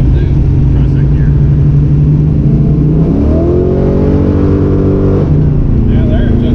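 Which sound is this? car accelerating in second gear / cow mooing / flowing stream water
car accelerating in second gear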